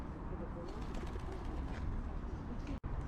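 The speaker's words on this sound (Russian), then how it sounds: "Здорово, голубь." A pigeon coos softly in Saint Petersburg, its low murmuring call partly buried under a steady, dense background rumble that cuts out abruptly near the end.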